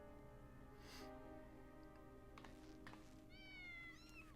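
Cat meows in Final Fantasy 14 surface over a sustained musical drone, a couple of short mews followed by a rising, wavering cry near the end, fairly faint and mid-distance.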